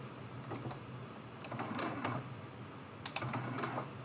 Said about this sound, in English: I'm going to go ahead and stitch down these pieces.